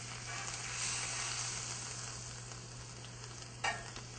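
Basil log butter melting in a hot pan gives a quiet, steady sizzle and hiss, with one brief louder pop near the end and no voices.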